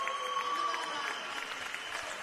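Basketball crowd at the Elford Sports Centre in Launceston applauding and cheering a three-pointer on the quarter-time buzzer during a senior grand final, a steady wash of clapping and voices in an indoor hall, with a brief tone early on.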